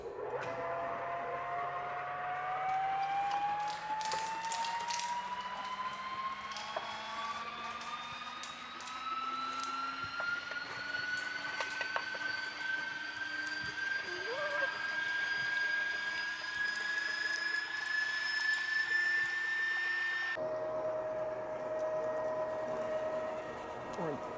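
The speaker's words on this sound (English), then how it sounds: "We're going to flip our grinder on." An electric meat grinder running through seasoned summer sausage meat, a steady motor whine that slowly rises in pitch as it spins up, continuous and fairly close, with people talking over it.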